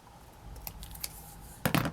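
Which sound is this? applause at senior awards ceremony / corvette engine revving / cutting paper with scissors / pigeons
cutting paper with scissors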